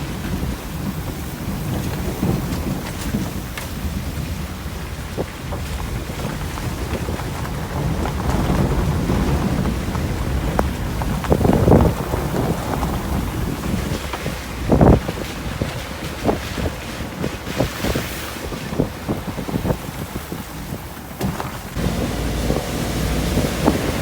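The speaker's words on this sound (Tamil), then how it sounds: "அப்படி மழை பெய்யுது." Heavy cyclone rain and gusting wind pound down in Jaffna. A dense, loud, continuous roar of rain and wind carries scattered sharp impacts and rumbling swells throughout, with no one speaking.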